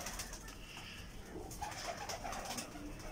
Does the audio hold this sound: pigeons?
yes